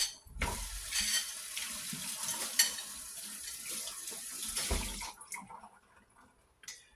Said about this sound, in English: I just rinsed out that bowl